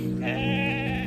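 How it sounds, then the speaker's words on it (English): A sheep on a farm gives a single close, clear bleat of about one second with a wavering, nasal tone. "A sheep says ba."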